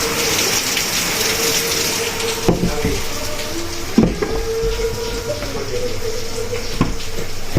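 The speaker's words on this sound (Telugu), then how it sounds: "బయట మాత్రం అంతా వర్షం పడుతుంది" Heavy rain falls outside, a constant dense hiss with a few sharp knocks and taps, while a voice is faintly heard in the background.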